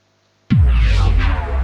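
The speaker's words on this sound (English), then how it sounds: "some of those sci-fi kind of sounds you hear, okay, like from Transformers." Sci-fi sound effect in the style of Transformers within cinematic orchestral music: a sudden loud hit with a deep sweeping boom, then a dense metallic, whooshing texture that sustains, close and alone.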